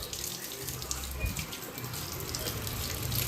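Water runs steadily from a tap while doormats are washed, a continuous close rushing splash with faint handling noises.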